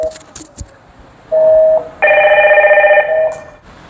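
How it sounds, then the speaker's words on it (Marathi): A video door phone bell rings inside a flat: a short electronic tone followed by a longer, louder pulsing chime, preceded by a few faint clicks, with no talk. "इथे तुम्ही जर हे दाबलं की आतमध्ये बेल जाते"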